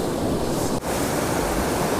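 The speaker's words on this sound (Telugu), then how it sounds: "వాటర్ సౌండ్ మీకు వినబడుతుంది." Floodwater after heavy rain rushes forcefully beneath rocks in a forest, a steady loud broadband roar with one brief dip, no voices.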